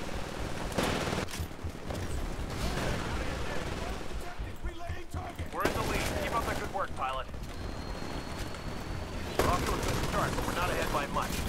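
Gunfire in the multiplayer shooter Titanfall (beta): dense, continuous bursts of shots and impacts rattle on throughout, with several sharper peaks standing out.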